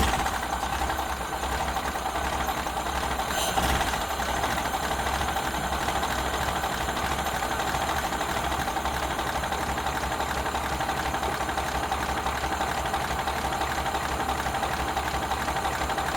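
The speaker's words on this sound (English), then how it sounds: "This is the first start of the new engine." A Ford Model A engine, freshly rebuilt, idles steadily on its first start with a constant rough rumble and a faint mechanical knock. It runs close and unbroken, with no voices.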